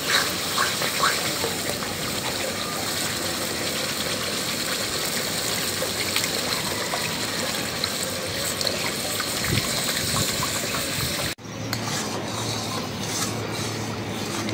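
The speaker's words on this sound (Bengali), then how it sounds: "মশলা কষানো হয়ে গেছে, মশলার উপরে যে তেল উঠে গেছে। এখন ঝোল দিয়ে দিব।" Water poured into a pan of fried spiced masala for katla fish gravy, a continuous close gushing splash that cuts off abruptly, followed by a softer bubbling hiss.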